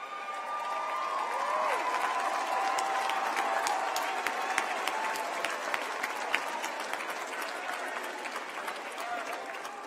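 Sustained applause and cheering from a standing audience at a university fall commencement ceremony, a dense wash of clapping with scattered louder claps and crowd noise throughout.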